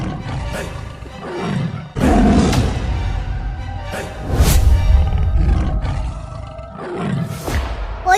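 A tiger in an animated Sundarbans story lets out several loud, deep roars in separate bursts, each swelling and fading, with no talking.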